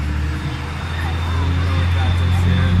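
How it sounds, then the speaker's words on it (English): Steady low engine drone and road rumble from inside a bus rolling through Malacatos, Ecuador, on the way to Loja, with a continuous loud hum and faint background chatter throughout. "Okay, on the bus, Malacatos."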